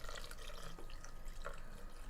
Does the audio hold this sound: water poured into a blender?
yes